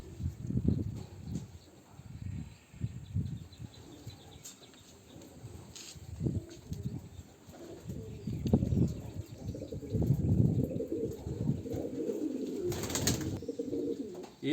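A racing pigeon coos close by in a low, repeated, throaty rhythm that carries on almost continuously, with faint background hum and no talking.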